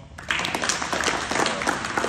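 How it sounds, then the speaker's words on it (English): An audience at a Juneteenth event in Atlanta claps in a dense, steady burst of applause that swells quickly after a brief quiet start and holds loud and close for about two seconds. "Give yourself a round of applause"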